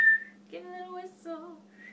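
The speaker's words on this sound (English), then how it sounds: "Give a little whistle." A person whistles a few short, clear melodic notes indoors, fairly near and soft, with brief pauses between phrases and a faint steady hum underneath.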